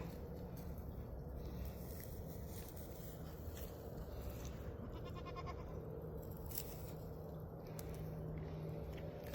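Goats on a farm where trees are being cleared, with a faint, distant bleat rising out of steady outdoor background noise, no one speaking.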